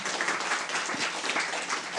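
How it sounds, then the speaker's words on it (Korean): An audience at the 2019 Jeju Forum applauds a panel speaker, a steady, even wash of many hands clapping throughout, fairly close and unbroken. "큰 박수 부탁드리겠습니다"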